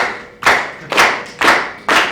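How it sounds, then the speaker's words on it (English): A panel audience claps in unison, four sharp, loud, evenly spaced claps about half a second apart, each ringing briefly before the next. "We'll be clapping, and we can actually synchronize if everyone wants to."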